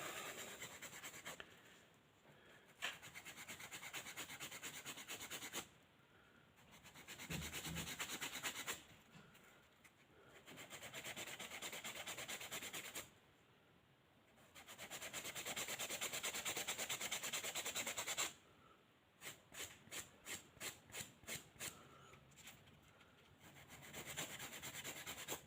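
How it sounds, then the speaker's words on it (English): Steady rasping strokes of sandpaper on wood with a sanding block, long rubbing passes broken by short pauses, ending in a run of quick rhythmic scrubs. "Now I have a sanding block here"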